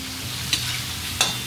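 Chicken liver masala frying in a pan over high flame gives a dense, constant sizzle, broken by two quick scrapes of a stirring spoon.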